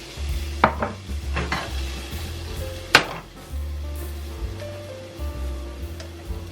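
Chopped bell peppers hit a hot skillet and sizzle in a steady hiss, broken by sharp clatters and scrapes of stirring utensils against the pan; close and moderately loud, no talking.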